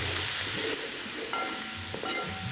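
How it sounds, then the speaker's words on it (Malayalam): Onions with fennel seeds and pepper sautéing in a pan for a tender coconut chicken dish, giving a steady close sizzle and hiss with light stirring scrapes throughout. "നല്ല രീതിയിലൊന്ന് വഴറ്റിയെടുക്കാം"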